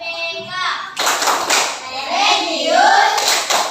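A classroom of children performs the rhythmic Tepuk PPK clapping chant, with brisk, close hand claps in a patterned beat mixed with lively children's voices chanting along.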